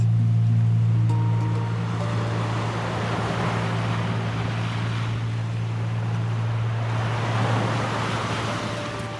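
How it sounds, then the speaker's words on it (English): Broad, continuous roar of ocean surf washing onto the shore close to a tent, swelling and easing over a steady low hum; no talking. "Can you hear the waves? It's like up to the tent almost."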